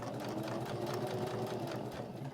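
A sewing machine stitching a fabric business card holder, running in a steady, even whir with a fast mechanical chatter, close and unbroken for the whole stretch.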